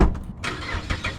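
Mazda 6 with a straight-piped exhaust firing up from cold, a brief loud crank and catch that roars into a rough, raspy idle, close by and alone.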